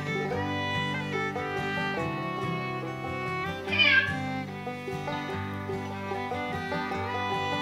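Cat meows played by an Alexa smart speaker sound through a steady bed of music, with one short, brighter mewing cry standing out midway, heard as though played back through a speaker.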